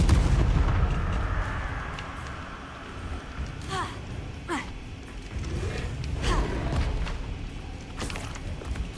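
Incendio fire spell blasts in Hogwarts Legacy, heavy booming bursts over a rumbling background, a few short whooshing hits in the middle with some game combat noise around them.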